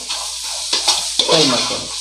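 Onions sizzle and fry in a pan for a Mangalore-style chicken sukka, with a steady hiss broken by a few scraping stirs of a spoon against the pan.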